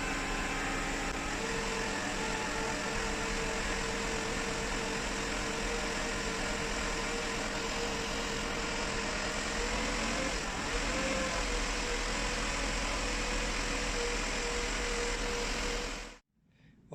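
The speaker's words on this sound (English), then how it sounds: "let's rev it up to 1500 and hold it there for a few seconds" Mercedes R129 SL500 engine held at a steady raised idle around 1500 rpm: a constant, close mechanical hum with a faint whine, unbroken for about sixteen seconds before cutting off abruptly.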